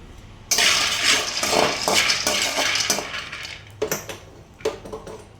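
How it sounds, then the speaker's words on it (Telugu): Shelled peanuts frying in a pan for a hotel-style coconut chutney give a dense, continuous crackle and rattle, loud and close, with a few sharper clatters near the end. "ఇప్పుడు వచ్చేసి ఇదిగోండి చెనక్కాయ పప్పులు అయితే ఫ్రై అవుతున్నాయి"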